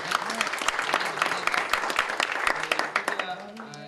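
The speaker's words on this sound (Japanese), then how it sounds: "ご承認の場合は拍手を。" Applause from an audience at a meeting, approving a proposal, dense overlapping hand claps at a moderate distance, steady throughout and easing slightly near the end.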